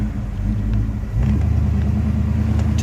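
A 1970 Oldsmobile Cutlass SX convertible engine droning while driving, with a shift into a deeper, louder steady rumble partway through as it cruises at low speed.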